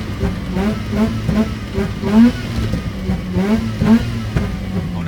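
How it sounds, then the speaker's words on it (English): A Mazda RX7 FC's rotary engine revs in short, repeated blips with a buzzy, mid-pitched tone, rising and falling several times at close range while a person talks over it. "So I was like revving a little bit."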